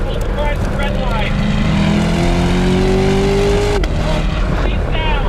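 A 2021 Corvette C8 convertible's performance exhaust roars steadily as the car is driven hard, engine note rising under acceleration with wind noise, loud and continuous.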